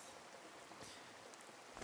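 Steady rain falls in the survival game Card Survival, a continuous even hiss of drops on a surface with no voices over it.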